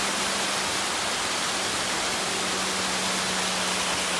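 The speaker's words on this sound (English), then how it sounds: "Nice little waterfall here out in front." A small waterfall in front of a lodge at Mount Magazine, Arkansas, makes a steady broadband rush with a faint low hum underneath, continuous and fairly loud with no voices.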